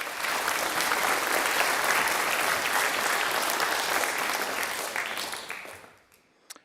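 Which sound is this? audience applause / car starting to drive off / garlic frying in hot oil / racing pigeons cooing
audience applause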